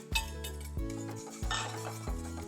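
A spoon scrapes and clinks rhythmically against a metal pot while stirring baby food into boiling water, about four strokes, close and fairly quiet, with no talking.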